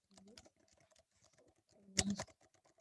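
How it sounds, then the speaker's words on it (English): Quiet clicking of someone typing on a computer keyboard while writing placeholder text in a Word document, a few scattered taps followed by a louder quick cluster of keystrokes near the end. "randomly type something here. These are not meaningful sentences though. I'll just type something."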